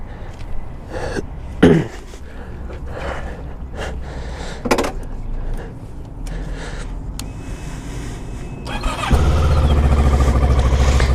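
A small inline-twin motorcycle with Givi bags and 22,000 miles idles alone, with scattered handling noises, then the engine note thickens into a louder, steady running rumble over the last couple of seconds.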